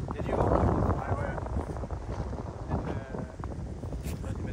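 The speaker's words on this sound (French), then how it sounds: "Il y a du vent." Wind blows across a golf course at Evry, rushing and buffeting loudly against the microphone throughout, with a voice talking faintly beneath it.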